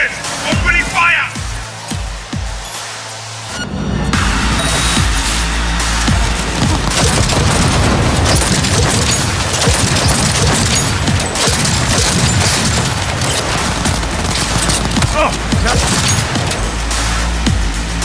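Heavy gunfire erupts in the Cyberpunk 2077 video game, dense bursts of shots and crashing impacts running continuously for many seconds after a brief quieter stretch with talking.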